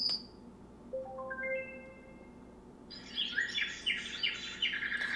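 A portable white noise machine plays a rising sequence of pure tones stepping upward, then a bright flurry of bird chirps and tweets follows, moderately loud and close.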